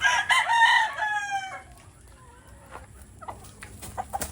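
A Sweater gamecock broodcock crows loudly in one drawn-out call at the start, then fades to quieter rustling in a breeding pen and a few faint clucks.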